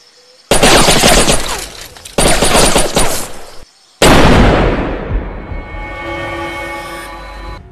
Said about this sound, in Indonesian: langsung saja menembakkan senjatanya tepat di sebelah kuping Dieter dan membuatnya tidak mendengar